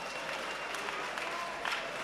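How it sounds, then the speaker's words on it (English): A crowd at Macron Stadium applauds at the end of the first round of an MMA bout, a steady, close wash of clapping with a few louder bursts and no talk over it. "the crowd here at the Macron Stadium giving a deserved round of applause at the end of that first round of action, Steve."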